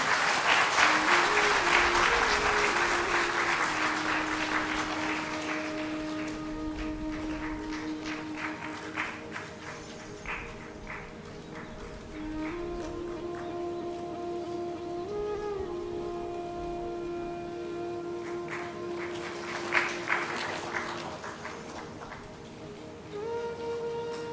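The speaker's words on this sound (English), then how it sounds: "Yeah, big round of applause, please." Loud audience applause at an ICAR-NAARM foundation day celebration, heaviest at the start, then settling into steady clapping over sustained musical tones for about twenty seconds, with a brief surge near the end.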